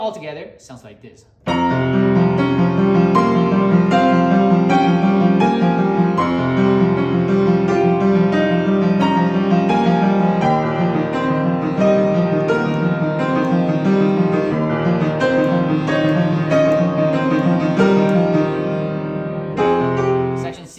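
A solo piano plays a character theme, a full and continuous passage with layered chords and melody. It begins after a brief quiet moment and holds steady and loud throughout.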